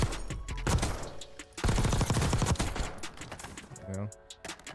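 Game gunfire at a video game shooting range while the player shoots targets: bursts of rapid shots in irregular clusters, loud and near, with a brief tonal effect near the end and no talk.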